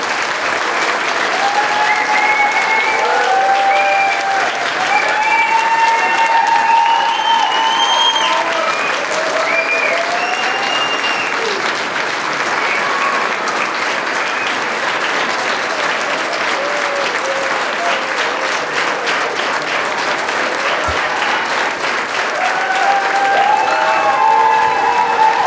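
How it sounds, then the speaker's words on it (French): An audience at a school show in Val-Brillant gives loud, continuous applause for about twenty-five seconds, with scattered cheers and whoops rising above the clapping. "qu'on lui réserve aussi une grosse main d'applaudissements pour toutes"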